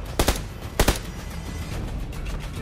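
Gunfire in the battle royale game PUBG Lite on PC comes as two quick double-shot bursts early on, sharp and loud, followed by quieter distant pops over a low background hum.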